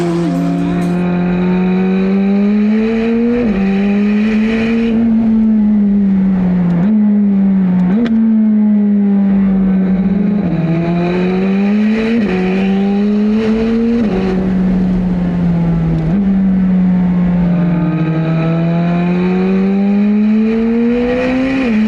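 McLaren 765 supercar engine accelerating hard through repeated gear changes, loud and close, each rising rev run ending in a quick drop at the shift.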